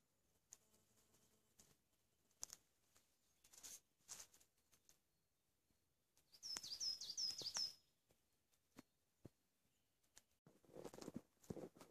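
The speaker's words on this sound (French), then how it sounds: "Et ces petits oiseaux." Small birds chirp outdoors on a sunny early-spring March day at a bushcraft bivouac. A short, bright burst of tweets comes near the middle among faint rustles and scattered steps.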